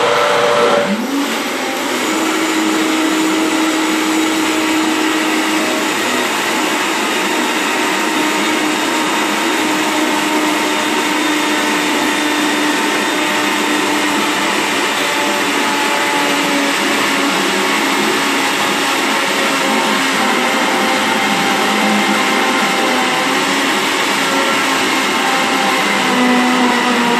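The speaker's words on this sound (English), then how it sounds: "just give your blender a shake" A blender motor whirs steadily at close range, a continuous loud grinding drone that holds its pitch for the whole stretch with no voices.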